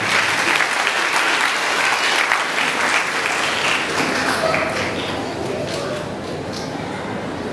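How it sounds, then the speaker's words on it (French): An audience at a church diocese's 50th anniversary celebration applauds the musicians with steady, dense clapping. The applause holds fairly loud throughout and fades slightly toward the end. "Applaudissez-les."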